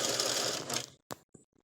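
A sewing machine stitches the side seams of a lacey flower girl dress, a fast close mechanical whir lasting just under a second, then stopping, followed by a few faint clicks.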